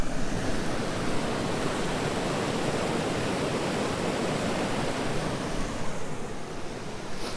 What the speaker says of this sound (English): We stopped by this little waterfall.